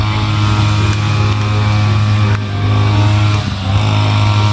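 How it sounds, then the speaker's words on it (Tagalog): A grass cutter clears weeds nearby outdoors, giving a steady, loud motor drone with a strong low hum that runs without a break, masking other sounds. "Ganyan yung background sound natin eh,"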